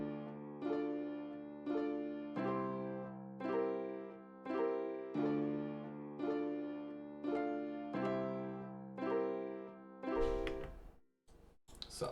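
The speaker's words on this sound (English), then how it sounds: "It's a Wing Upright piano," Sampled Wing Upright piano from Keyscape plays a repeating chord progression, each chord struck in steady rhythmic pulses, close and clear, ending in a few scattered hits.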